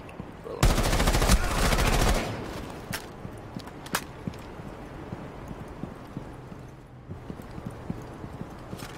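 Enemy gunfire in Rainbow Six Siege: a loud burst of rapid automatic shots near the start, then scattered sharp shots and clicks against quieter game ambience.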